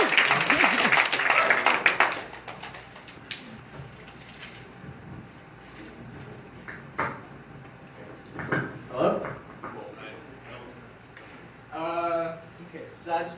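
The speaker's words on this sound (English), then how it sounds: "So give a round of applause for the legend," An audience claps for a speaker at a talk, a dense loud burst of applause for about two seconds that quickly thins out, followed by someone speaking.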